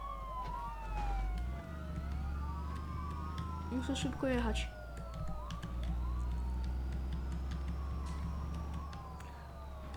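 A wailing police siren in a video game sweeps up and down continuously over engine rumble, with someone talking briefly partway through.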